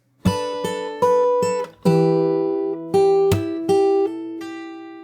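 Fingerstyle acoustic guitar playing a section of a song, clear plucked chords and ringing notes in a slow, steady phrase, close and alone with no talking.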